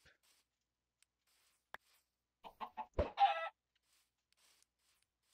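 A few short clucks followed by a louder, drawn-out squawk from a chicken in Minecraft, with near-silence before and after.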